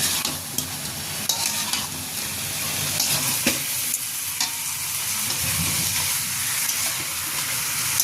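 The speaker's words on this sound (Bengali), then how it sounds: "মাছগুলো দিয়ে হালকা একটু কষিয়ে নিব টমেটো আর মশলার সাথে" Pieces of fried rohu fish sizzle in a pan with tomato and spices, a steady close frying hiss running throughout with occasional stirring scrapes and no talking.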